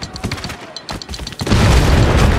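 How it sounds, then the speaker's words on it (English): A heavy mortar round from Spec Ops: The Line detonates on a Humvee, with earlier scattered gunfire and thuds giving way to a loud, sustained roaring blast and rumble. "Heavy mortar."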